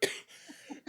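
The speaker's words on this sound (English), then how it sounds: "I didn't mean to summon the coughs." A person gives two short, sharp coughs close to the microphone, one at the start and one at the end, with soft breathy sounds in between.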